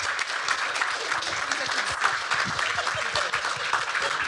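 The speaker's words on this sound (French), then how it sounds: "On les applaudit bien fort, mesdames, messieurs." Audience applause at a French literary round table, a dense rolling clatter of many hands, moderately loud and close, with some voices mixed into the clapping.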